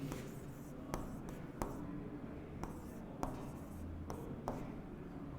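Math being written on a board during a geometry lesson, soft continuous scratching strokes broken by sharp taps at a steady pace, faint and close, with no talk over it.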